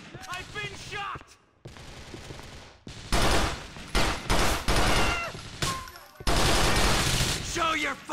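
Gunfire from the video game Grand Theft Auto IV: The Lost and Damned sounds as loud bursts of rapid shots with brief gaps, heavy and close.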